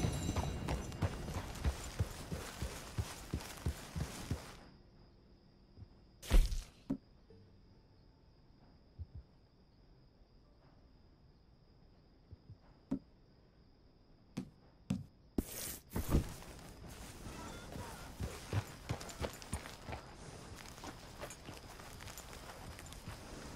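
A horse's hooves clip-clop steadily on a trail in the Red Dead Redemption II game world, drop into near silence with a few soft thuds, then resume with sharper hoofbeats.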